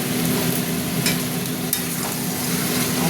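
Curry with yogurt frying in a pan as it is stirred, a close, steady sizzle with scraping strokes throughout and no voices.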